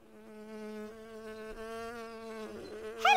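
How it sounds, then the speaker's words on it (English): Cartoon bee buzzing, a steady droning hum with a slightly wavering pitch, heard alone in a quiet countryside scene before a brief sharp sound at the end. "Hello, Buzzy Bee."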